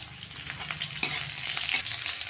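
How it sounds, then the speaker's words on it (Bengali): Chopped onion sizzles in hot oil with cumin, dried red chillies and a bay leaf, with a steady bright crackle and a few stirring scrapes close by, no voices. "এখন পেঁয়াজটা ভেজে নেব।"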